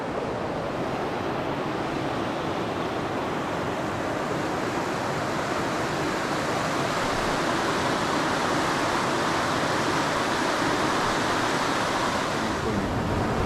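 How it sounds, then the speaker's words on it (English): A clear mountain stream in the pristine high valleys of Himachal Pradesh rushes in a dense, unbroken roar, loud and close, holding steady for the whole stretch with no voices. "Water flowing right in front of us, these big mountains."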